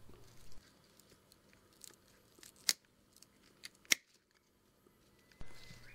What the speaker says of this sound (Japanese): ついでに枯れ枝を切除します。